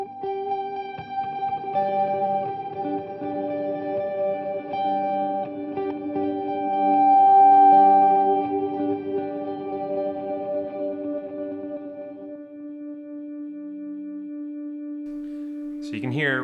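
Guitar played through a Hologram Microcosm effects pedal with its reverb, sustained layered tones with long shimmering tails that swell and slowly decay, ending in a brief sharp noise.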